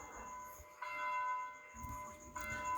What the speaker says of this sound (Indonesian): Saat kita mendengar bunyi lonceng itu